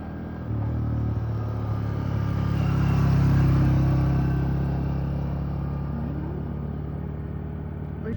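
A motorcycle ridden out by a bike rider at a desert family barbecue, its engine a steady low rumble that swells slightly mid-clip and then holds at a constant idle, with no talk over it.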